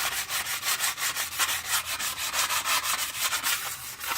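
A brake surface is scuffed with coarse grit sandpaper in steady back-and-forth strokes, a close, rhythmic rasping repeated about three times a second without talk.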